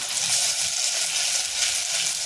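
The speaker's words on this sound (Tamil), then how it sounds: "தக்காளி போட்டுட்டு வதக்கிக்கவும்." Chopped tomatoes sautéing in a pan for a Tamil mutton curry, a steady close hiss and crackle of frying that runs continuously without any talking.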